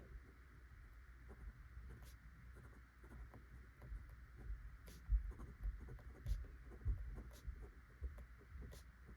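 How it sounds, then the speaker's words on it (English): Smooth fountain pen nib, a Leonardo grail pen, gliding across paper in soft, faint scratchy strokes with a steady low hum underneath and no talk. "the nib feels very smooth, almost like butter going across the page"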